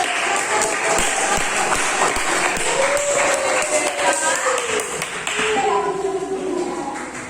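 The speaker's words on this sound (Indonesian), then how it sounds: "Tepuk tangan untuk kelompoknya Nabil" A class of students claps together for a winning group in a school lesson, a dense, steady patter of hands filling the room while voices carry faintly through it.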